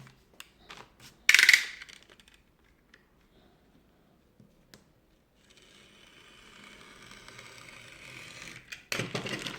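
Single-mode fiber optic patch cord being unpacked, with sparse light plastic clicks and a sharp crinkle near the start, then a soft rustle of packaging building toward a louder rustle at the end.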